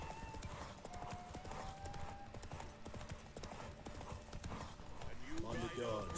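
Hoofbeats of Geralt's horse Roach galloping in The Witcher 3 during a horse race derby, a steady rapid clip-clop running throughout under game music and effects, with a short whinny-like rise near the end.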